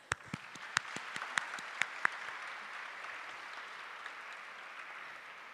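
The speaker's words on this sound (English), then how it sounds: "A huge round of applause for all the reciters." Students at a school recitation competition give a round of applause, a few distinct close claps at the start, then soft, thin clapping that fades over several seconds.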